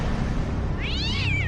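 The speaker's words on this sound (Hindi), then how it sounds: "बिस्तर पर मिसेस कौशिक की बिल्ली घूम रही थी" A cat meows once on a bed, a rising then falling call rising out of a low steady room hum, clear and close, with no talk around it.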